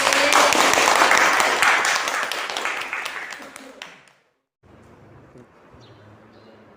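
A classroom of students breaks into dense, lively clapping that fades out over about four seconds, followed by a quiet room with faint background sounds.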